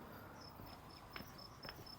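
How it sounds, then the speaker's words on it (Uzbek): Crickets chirp in a quiet outdoor setting at sunset beside fields, a steady series of short, high, evenly spaced trills, faint and somewhat distant with no talk. "Ana chigirtkalarni chirillashi eshitilyaptimi?"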